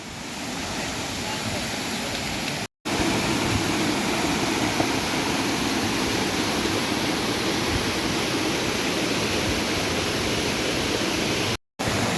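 A waterfall in Theth National Park in the Albanian Alps gives a loud, steady, close roar of rushing water that fills the whole stretch, broken by two brief moments of total silence.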